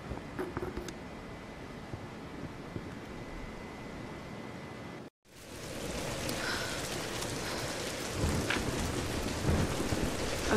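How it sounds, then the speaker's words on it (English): Steady heavy rain with rolling thunder from a storm in the 2013 Tomb Raider video game, a dense continuous roar that cuts out briefly midway, then returns louder and builds toward the end, with no voices. "We're getting closer to the storm."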